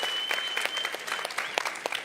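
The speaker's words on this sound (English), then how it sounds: "Please give the speakers another round of applause." Audience applause after a conference session on a stage, steady dense clapping with a few sharper claps and faint background chatter, moderately loud and sustained.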